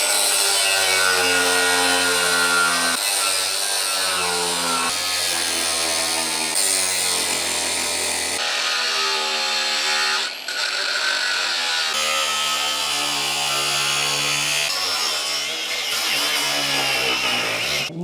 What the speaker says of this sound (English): I'm just gonna cut these sections out with the angle grinder.